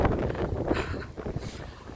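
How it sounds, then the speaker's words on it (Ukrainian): Strong winter storm wind on the Odesa seafront roars steadily into the microphone, a loud continuous buffeting rush with no voices. "Іти проти вітру такого сильного, стільки сил забирає."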